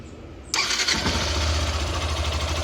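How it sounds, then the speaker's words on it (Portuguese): A motorcycle engine starting from quiet, catching abruptly and settling into a steady, fairly loud idle with a low rumble close by; the bike is noted as having an engine noise problem. "agora o passo é ligar a moto"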